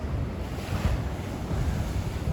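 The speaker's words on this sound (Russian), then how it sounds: "Будем снимать шторм, купаться во время шторма." Rough storm waves wash against the Yalta embankment in darkness, a broad churning roar with gusty wind hitting the microphone and a slight swell of noise early on, no speech.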